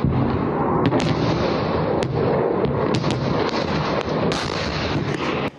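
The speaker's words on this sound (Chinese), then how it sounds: "防空拦截爆炸声不断" Air defense interceptions near the port of Odesa: a dense, continuous roar of distant blasts and crackling bangs, with sharp individual cracks standing out at irregular intervals above a steady rumbling wash.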